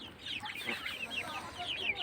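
Young tiger chickens cluck and cheep in a steady, overlapping chorus, close and continuous with no pauses and no talking.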